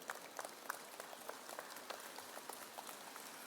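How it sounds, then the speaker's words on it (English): Audience applause at a university convocation ceremony, faint and distant, scattered individual claps pattering steadily like light rain throughout. "thanks for the round of applause for Dr. Andreas too"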